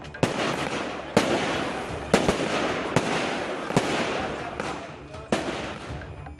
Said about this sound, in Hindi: पाकिस्तान की जीत पर हिंदुस्तान में पटाखे फोड़े गए